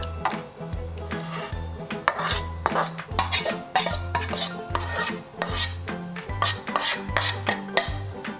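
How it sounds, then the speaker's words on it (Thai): A metal spoon scrapes and clinks repeatedly against a tray while spreading sago pearls evenly, making steady close-up scraping strokes in an irregular rhythm, with no talk. "เกลี่ยให้ทั่วนะคะ ให้เสมอกันค่ะ"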